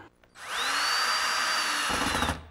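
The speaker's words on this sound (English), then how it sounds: "now hold this and you can drive that first screw" A power drill drives a screw into a wooden Adirondack chair slat, a loud sustained whine lasting about two seconds that rises in pitch as it spins up, then bogs and stops as the screw seats.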